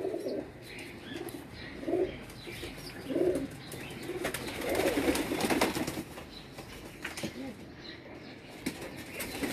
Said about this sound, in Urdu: یہ کبوتر ہے